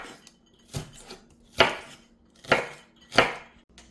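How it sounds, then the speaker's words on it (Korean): A knife slicing green onions on a cutting board: five crisp, close chops at an uneven, unhurried rhythm, with short quiet gaps between strokes. "파는 그냥 뭐 송송 썰어도 되고 어서 썰어도 되고 상관없는데 요 두께를 비슷하게 이렇게 썰어 주세요"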